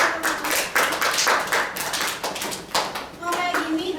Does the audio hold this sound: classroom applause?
yes